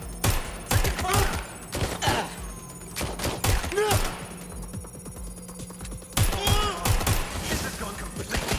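Rapid bursts of gunfire in the video game Watch Dogs: Legion crackle through the whole stretch, sharp shots and fusillades repeating loudly while characters shout and talk over the fight.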